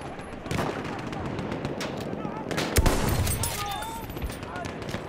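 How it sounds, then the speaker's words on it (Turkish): Bursts of machine-gun fire in the World War I shooter Battlefield 1, rapid cracking shots at moderate distance rattling over a noisy battlefield backdrop, with one sharper, louder burst in the middle. "Orada bir makinalı tüfek var."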